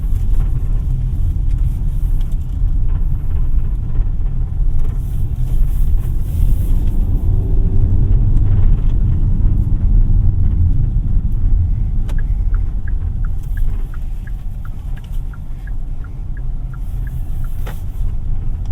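Steady, loud engine drone and road rumble from a 2024 Kia Seltos EX accelerating in sport mode, heard from inside the cabin with no talk, easing slightly near the end.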